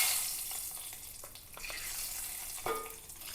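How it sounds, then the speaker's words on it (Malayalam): Cashew nuts fry in hot oil in a pan, giving a steady close sizzle with scraping stirs and a few brief bubbling pops. "നമുക്ക് ആദ്യമേ അല്പം അണ്ടിപ്പരിപ്പൊന്ന് വറുത്ത് പോരാം"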